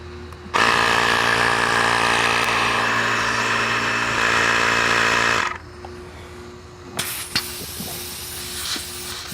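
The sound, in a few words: Ryobi PCL001B tire inflator running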